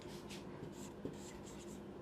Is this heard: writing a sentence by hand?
yes